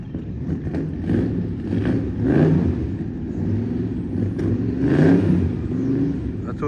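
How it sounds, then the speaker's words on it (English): Old Chevrolet with a 454 big block V8, the engine idling with a lumpy low rumble and two rising revs, heard from nearby. "That's what a 454 big block sounds like."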